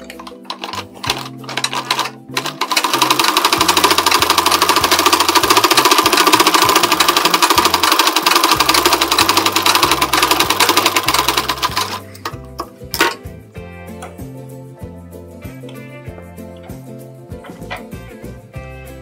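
A sewing machine stitching a blouse runs in one long, loud, steady burst of rapid needle clatter, then stops and gives way to quieter clicks and handling sounds.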